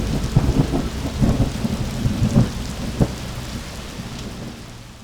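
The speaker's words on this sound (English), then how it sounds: "Luckily the wind stopped and we got a nice downpour and just a few hail" Heavy rain pours steadily over a small farm garden, with a couple of loud thunder rumbles and cracks rolling through near the start and middle. The downpour keeps going to the end and fades slightly, with no talking.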